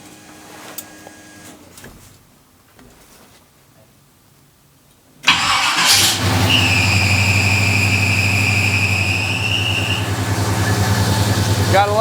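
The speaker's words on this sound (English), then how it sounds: "Gotta love that belt noise." A 1968 Chevrolet C-10 truck engine cranks and catches after a quiet stretch with faint movement, then idles loudly and steadily with a sustained high belt squeal riding over the running engine.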